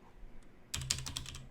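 Quick burst of keystrokes on a computer keyboard, about half a dozen crisp clicks in a rapid run after a short quiet pause, close and fairly soft.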